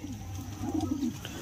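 Pigeons coo close by, a soft low throaty rolling call that swells briefly in the middle, over faint background noise.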